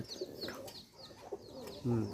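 Pigeons coo at their nest in a village setting while one feeds another, several soft, throaty coos and chirps close by, mixed with faint rustling and a brief low voice near the end.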